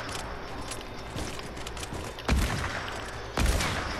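Hunting rifle fire in Fortnite, with two sharp, loud shots spaced about a second apart over quieter game ambience and faint footsteps.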